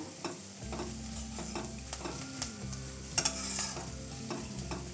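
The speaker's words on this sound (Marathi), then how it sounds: "करडूची भाजी आहे चिरून घेतली एक पेंडी आहे मिक्स करून घेऊया" Chopped karadu, a monsoon leafy vegetable, is stirred in a pan with a little red chili. A quiet, continuous sizzle runs under repeated scraping and tapping of the spoon against the pan, with no talking.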